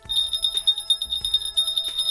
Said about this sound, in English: So it's like you win the game, you ring the bell.